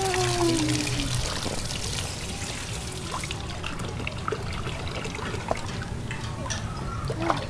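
Water splashing and trickling as a young child swims, an uneven wash of small splashes and dribbles, with faint voices nearby in the background.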